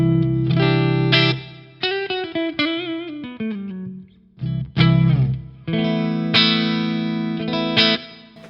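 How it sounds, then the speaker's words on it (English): An electric guitar tuned to drop C on a 26.5-inch scale plays chords and single notes through the clean channel of a PRS amp with a touch of reverb, loud and close with short gaps between phrases. "I'm on the clean channel of the PRS, which is probably the most boring clean channel ever."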